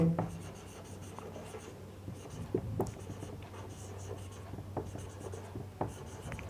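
Marker or chalk scratching on a board during a chemistry lecture, in short scratchy strokes and taps against a steady room hum, with no one talking.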